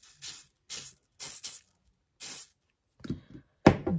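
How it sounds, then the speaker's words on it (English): Hairspray sprayed onto a Care Bear plush to lift marker from its lip, heard as four short, close hissing bursts at a steady pace, followed by brief handling and rustling sounds. "I'm just going to spray it right"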